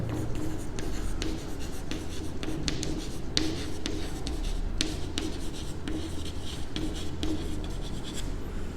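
Steady scratching of a marker or chalk writing out a maths solution on a board, continuous close strokes with short taps, no talk.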